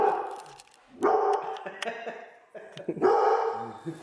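A dog barks in several sharp bursts at close range, with pauses between them and voices talking in the background.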